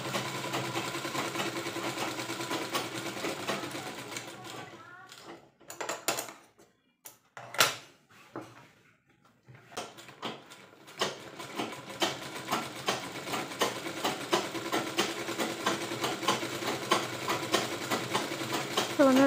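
A nearby sewing machine whirs steadily while stitching seams on a ready-made nightie, breaking into short stops and starts midway before settling back into a continuous, rattling run.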